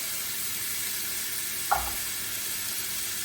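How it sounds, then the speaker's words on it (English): Finely chopped onion and four cloves of garlic saute in oil, giving a soft even sizzle throughout with one brief clack of a utensil midway. "Saute that a bit in the oil."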